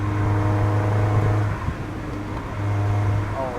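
Mazda Miata NB engine droning steadily from inside the car while driving, a continuous low hum with a brief dip in load midway before it picks back up, no talk.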